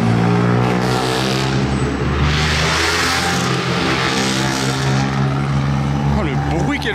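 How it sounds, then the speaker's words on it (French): Peugeot 208 rally cars roar through city streets at the Rally Monte-Carlo 2025, a loud, sustained engine drone with rising revs, while voices carry faintly in the background. "Oh le bruit qu'elles font ces 208."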